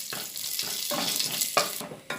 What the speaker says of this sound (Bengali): এবার জিরেটাকে আমি লাল করে ভেজে নেব।